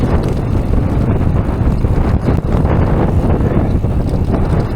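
Strong wind buffets the microphone on an open, treeless rocky mountain bike trail in Wales, a loud continuous roar and rumble throughout with brief gusty dips.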